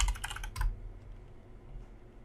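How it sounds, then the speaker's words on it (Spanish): Someone types a password on a computer keyboard in a quick, close burst of sharp clicking keystrokes. Faint room hum follows once the typing stops. "ingresamos nuestra contraseña"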